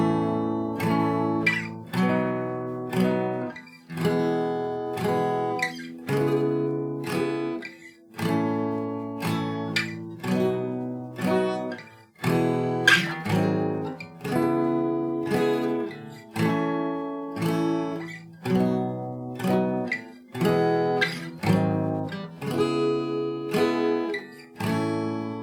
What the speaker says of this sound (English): You will just play 2 downstrokes per chord like this.